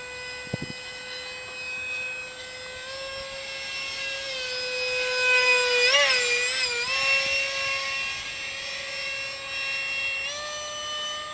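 An F-86 Sabre RC park flyer jet with an electric ducted fan cruises at half throttle, giving a steady, strong whine that bends in pitch and swells briefly as it passes near, then settles back to a continuous drone.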